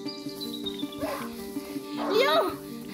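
A hunting dog in the video game A Plague Tale: Innocence gives two short yelping barks over a steady background hum.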